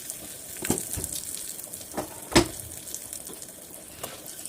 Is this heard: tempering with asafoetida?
yes